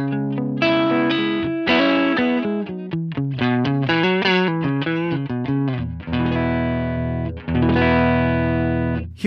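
Distorted electric guitar through a Line 6 Helix amp model, recorded with a ribbon mic, plays a run of chords and notes with a chorus-like shimmer and muddy low mids, loud and continuous, no voices.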